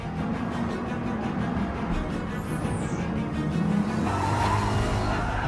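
Racing cars in Gran Turismo Sport drive on a track, engines droning steadily with squealing tires and skids and a car passing by, fairly loud throughout.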